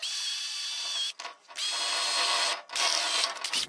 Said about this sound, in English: We'll get these mounting holes drilled now, right through here.